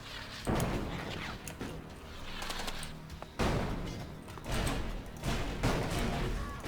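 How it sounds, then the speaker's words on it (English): Enemy gunfire in the video game ELEX comes as bursts of sharp shots and thuds, several loud volleys that start and stop close by. "we got somebody trying to take pot shots at us down here"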